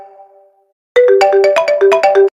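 A mobile phone ringtone plays loud and close, a bright repeating electronic melody of quick stepped notes, preceded by a fainter tonal beep.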